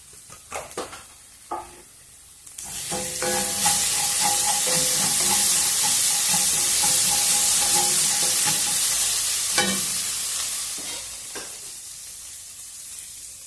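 Rice stirred into a gongura tempering in a pan: a few scraping clinks at first, then a loud, sustained close sizzle and hiss with steady stirring scrapes, easing off toward the end.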